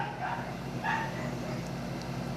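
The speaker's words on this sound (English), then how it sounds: "Sorry about that dog barking." A dog barks a few times in the background, faint and a little distant, while the room otherwise stays quiet.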